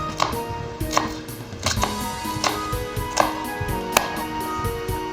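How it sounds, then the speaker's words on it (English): Knife chopping through onion on a cutting board, a steady series of crisp, close chops with brief pauses between strokes, no talking. "cut horizontally. Then slice."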